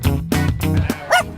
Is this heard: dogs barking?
yes